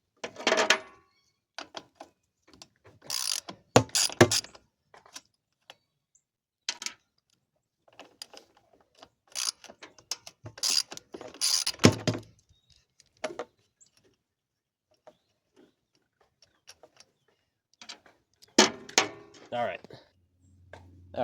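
Socket wrench ratcheting on the carburetor of a Craftsman LT 4000 lawn tractor, heard as several short bursts of clicking spread across a quiet stretch with long gaps between them, close and fairly loud.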